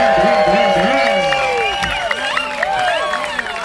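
A concert audience applauds and cheers for the lead performer in a tribute show. Clapping and crowd noise run under someone talking over a microphone throughout.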